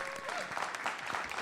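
Audience applause at an Oakland press conference, a steady wash of clapping from the crowd sustained evenly throughout with a brief tonal sound near the start.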